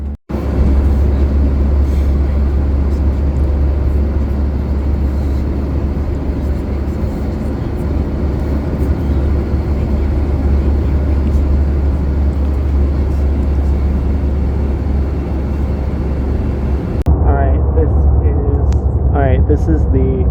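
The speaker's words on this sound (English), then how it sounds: "This is the Airbus A321LU." Constant loud, low cabin roar inside an Airbus A321 airliner in flight, a steady broadband drone that holds for the whole stretch, then drops away near the end as some faint higher sounds come through.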